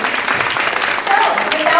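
Audience applause at a live kickoff event for an organizers' training school in New York City, a dense steady wash of many hands clapping, fairly loud and close, with some voices mixed in.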